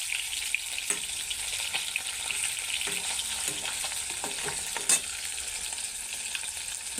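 Fish frying in a pan alongside taro and spices, an even crackling sizzle with scattered stirring clicks and one sharper clatter near the middle, close, no voices.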